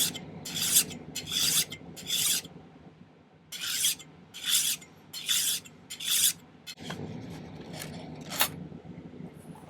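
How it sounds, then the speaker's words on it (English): Hand filing on a ring bezel held in a miter vise jig: rhythmic rasping strokes in bursts, several quick scrapes, a pause, then more strokes, close and fairly loud with no talking. "I want to file this flat here. So I'm going to use my miter vise jig."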